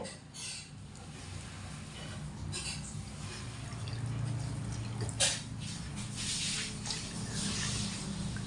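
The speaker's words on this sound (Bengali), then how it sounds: "এরকম মুটো করে নিংড়ে জল বার করে দেব" Soaked bread slices are squeezed by hand to wring out water, giving faint wet squelching and drips against a steady low background hiss, with one slightly sharper squish midway.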